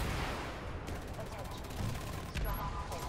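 Squad-fired RPG rocket launchers in a Pripyat video game battle, heard as dense, continuous gunfire and blasts with a few sharper bursts near the end, loud and steady throughout.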